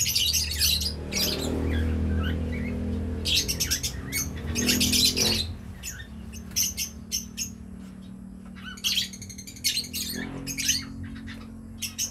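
A caged bird squawks and chirps in sharp bursts, some close and loud, with rustling and low background hum between calls, in a storeroom.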